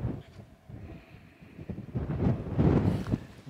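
Wind gusts buffet the microphone on an exposed mountain ridge in Galloway Forest Park, a rough low rumble that rises and swells toward the end of the short stretch, fairly faint overall.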